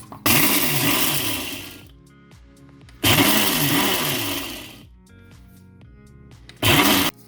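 A Ninja food processor pulses meat down to a rough chop in three loud whirring bursts. The first two run about two seconds each and the last is shorter, with quiet gaps between them.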